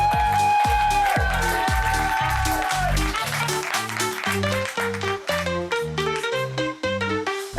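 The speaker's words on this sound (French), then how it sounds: "S'il vous plaît, faites un round d'applaudissements pour Marc-Olivier Chicoine." Audience applause and cheering at a French-language stand-up comedy show, loud and sustained, with a musical intro playing alongside.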